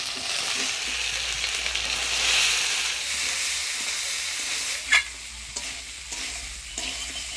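Boiled chana dal stirred in a pan with ground coriander, cumin and ginger paste, green chillies and salt: a steady, close frying sizzle and hiss with soft scraping strokes, and a brief sharper clack near the end.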